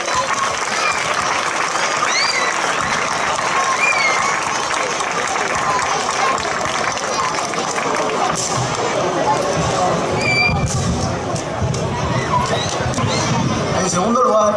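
A crowd at a town festival opening in Hoya del Campo gives the mayor a long, loud, steady round of applause, dense clapping with murmuring voices mixed in throughout.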